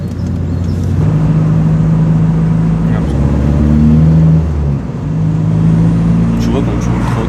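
Seat Ibiza engine drones steadily from inside the car while driving, a low hum that rises and dips slightly, with people talking over it.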